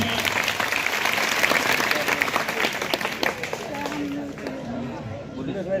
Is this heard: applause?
yes